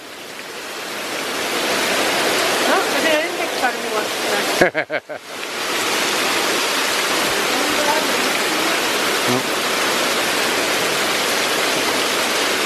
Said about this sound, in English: It is pouring though.